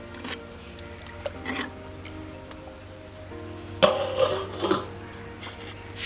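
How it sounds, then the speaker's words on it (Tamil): A ladle scrapes and mashes drumstick-stem soup in a cooking pot, giving intermittent close rasping and clinking strokes over a steady low background hum. "இந்த சூப்பு நல்லா கரண்டியில் மசிச்சு விட்டுக்கலாம்."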